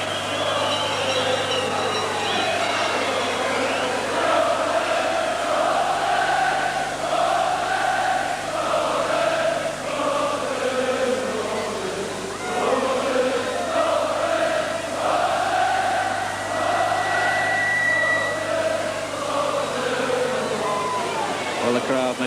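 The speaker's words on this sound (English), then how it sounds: "the crowd making it absolutely clear they want to hear a bit more from Robson" A large crowd at the Ipswich Town civic reception for the 1981 UEFA Cup roars and chants in a continuous wash of cheering, with someone talking over it throughout.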